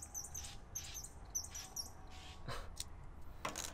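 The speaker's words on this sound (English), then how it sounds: "Sorry for the birds. I don't know what they're doing." Small birds chirping outdoors in repeated high, short tweets, faint and somewhat distant, over a low background hum with a few brief scrapes.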